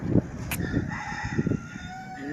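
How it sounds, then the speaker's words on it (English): Chickens cluck and a rooster crows nearby, outdoors in Key West with some background noise. "You see the chickens over there?"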